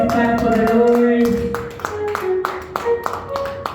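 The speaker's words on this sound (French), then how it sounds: "Let's clap for the Lord." A church congregation claps together in praise, the rhythmic hand claps mixed with singing or voices over a steady musical backdrop.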